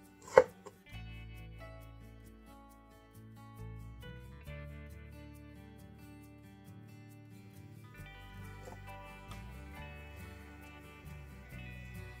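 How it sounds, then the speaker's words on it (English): A knife cuts through fresh, uncooked beetroot with a quiet chop at the start, while soft background music plays throughout. "Cut the beetroot."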